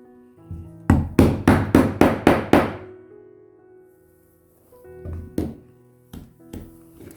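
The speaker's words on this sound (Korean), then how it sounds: "앞부분 구멍을 다 뚫었거든요" Hammer blows on a leather punch while holes are made in leather for a vintage card wallet: a quick run of seven sharp, evenly spaced strikes, then a pause and a few lighter, scattered taps, close and clear.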